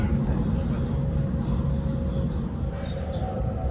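A Sydney Trains train runs along the line toward Central, a loud, steady low rumble inside the carriage with a faint high tone and occasional brief squeals over it.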